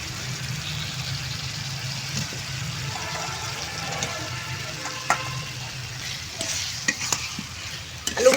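Fried potatoes turned through cooked masala in a pan for chhanar aloor dom, a soft steady sizzle under repeated scraping stir strokes, with louder clatters from the spoon toward the end.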